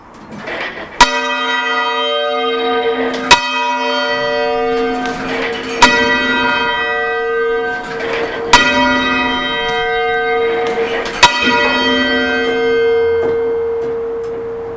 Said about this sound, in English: This is one of our bells. This is our tenor bell. It's the heaviest one in the tower.